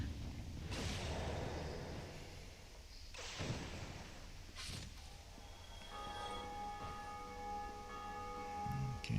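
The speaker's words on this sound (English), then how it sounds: "here you can hear the bell ringing" A bell rings out in the video game Dark Souls Remastered, with a few sharp, loud metallic strikes that leave long, ringing tones hanging in the air, set against a steady background rumble.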